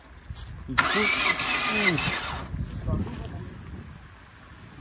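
An engine cranks with a strained starter whine, catches roughly for about two seconds and then fades, recorded outdoors with wind noise and people talking around it.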